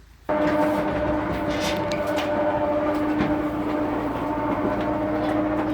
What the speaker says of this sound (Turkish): Traktör geldi.